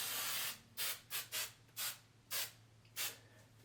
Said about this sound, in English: I use a bit of hairspray to just sort of set it into place